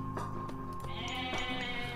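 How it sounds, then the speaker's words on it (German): Goats bleating in the Age of Mythology strategy game, several close, loud nasal bleats in quick succession over steady game music and ambience. "Na komm, schlag mal die Ziegen."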